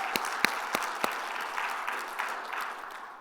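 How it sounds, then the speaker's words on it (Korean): A church congregation claps together after a sermon line, a dense steady patter with a few sharper, louder claps near the start, then thinning gradually toward the end. "하나님께 영광의 박수 올려드립니다."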